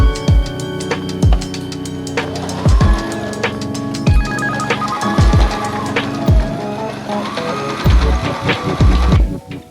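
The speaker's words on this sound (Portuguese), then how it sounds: "eu faço um retrocesso na máquina de costura para o ponto não abrir" A sewing machine stitches the sides of a handmade espadrille in loud, close, rhythmic bursts of rapid needle clatter, separated by brief pauses and repeated several times.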